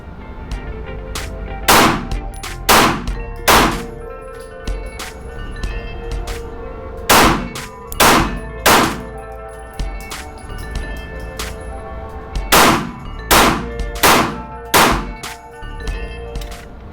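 Pistol shots fired at a range while comparing a Springfield Hellcat, SIG P365 XL and Glock 48 handguns: loud, sharp reports in clusters of two to four, with pauses between strings and steel targets ringing.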